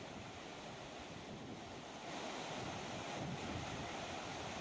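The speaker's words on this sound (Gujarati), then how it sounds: "ઉપરવાસમાં ભારે વરસાદ પડ્યો અને તેને કારણે ગોમા નદી હાલ તો છલકાઈ ઉઠી છે" Goma river flooding after heavy upstream rain, a steady broadband rush of high water that grows slightly louder midway, continuous and alone with no voices.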